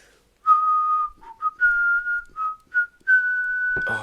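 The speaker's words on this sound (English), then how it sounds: "I will whistle the Johnny English theme" A person whistles the Johnny English film theme, a short clear melody of sustained and clipped notes rising in pitch, close to the microphone and alone until a brief noise at the end.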